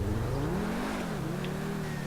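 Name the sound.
modded Pegassi supercar engine revving, Grand Theft Auto 5 video game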